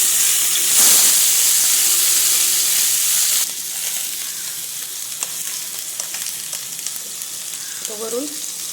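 Green peas dropped into a heated appe pan sizzle and hiss loudly at first, the frying settling to a quieter steady crackle with a few faint clinks, alone without talk.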